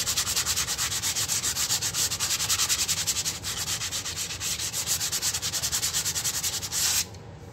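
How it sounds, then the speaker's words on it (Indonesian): Rear brake parts are rubbed with sandpaper during a brake pad change, a fast, steady scratchy back-and-forth rasp heard close up for several seconds before it stops abruptly. "Terus kita amplas sedikit ya"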